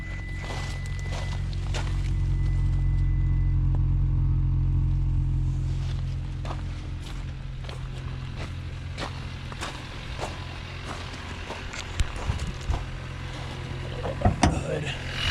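A car engine idles with a low exhaust rumble that swells and then settles, followed by scattered clicks and handling noises nearby.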